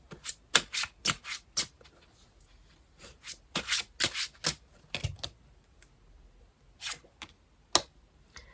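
Tarot cards being shuffled and drawn at a table during a reading, with close, crisp riffling and sliding bursts in irregular clusters separated by quiet pauses.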